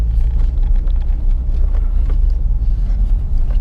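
A manual-transmission car pulls away after the clutch is let out and the gas pressed, giving a steady, loud, low engine rumble heard from inside the car with light wind noise.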